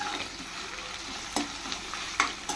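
Curry ingredients for a gongura curry sizzle softly in a pan, stirred now and then with a few sharp scraping clicks over a continuous low frying hiss.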